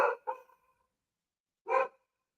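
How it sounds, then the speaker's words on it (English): A pet dog barks indoors, two quick barks followed after a pause by a single louder bark, close and otherwise quiet. "it's our dog. He just wants to be heard"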